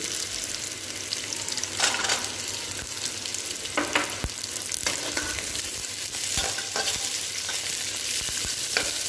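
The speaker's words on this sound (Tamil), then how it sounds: "வெங்காயம் நல்லா சிகப்பு நிறம் வர வரைக்கும் வதக்கிக்கலாம்" Onion and then garlic sauté in a pan for egg kulambu, a soft steady sizzle broken by scraping stirs and clinks, fairly quiet and up close with no talking.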